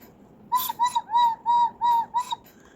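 A cuckoo clock's whistle box on a 1940s–50s count wheel movement marked GG Berg gives six clear two-note cuckoo calls in steady rhythm, close and alone, with no talk.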